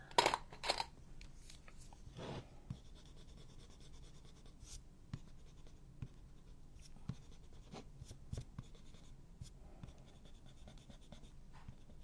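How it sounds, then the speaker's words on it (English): An eraser scrubs a stray mark on paper near a painted peony in short, quiet rubbing strokes. Soft handling noises sit between the strokes, and no one speaks. "Let's see if I can erase it."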